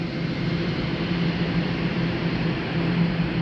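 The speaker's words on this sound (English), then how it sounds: "that's the humming you hear." Many fans in a beet freezing plant hum steadily in an unbroken, even drone with a low tonal hum running underneath, loud and constant throughout with no voices.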